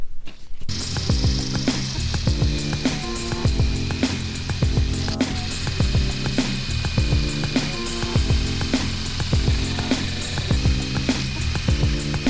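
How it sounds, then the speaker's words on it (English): Power tool grinding an old boat window screen, a loud continuous mechanical whine with rapid rhythmic pulsing and chattering throughout, close and unbroken, with no talking. "I only needed to grind one side, well, 2 sides of the window screen"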